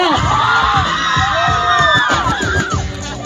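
A crowd at a rap performance shouts, whoops and cheers loudly all at once, a dense burst of excited voices.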